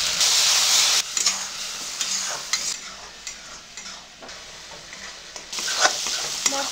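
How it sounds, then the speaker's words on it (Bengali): Spices of chilli and turmeric powder sautéed with a little water in mustard oil, producing a loud steady sizzle and hiss with scraping strokes of a spatula in the pan, the frying noise dipping midway and rising again, no talking. "সামান্য একটু জল দিয়ে মশলা কষে নেব।"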